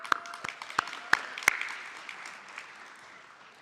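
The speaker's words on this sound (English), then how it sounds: "So big shout of, round of applause for you guys." Conference audience applauding, with a few sharp individual claps near the start over a dense crackle of clapping that gradually fades out over a few seconds.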